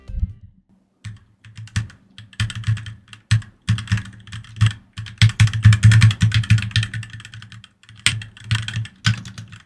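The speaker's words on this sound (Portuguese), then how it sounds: "Agora eu vou deixar vocês com o som das teclas." Fingers type on a cheap mechanical keyboard with fairly soft, quiet keys, clattering in irregular close bursts with brief pauses over a low steady hum, for nearly ten seconds.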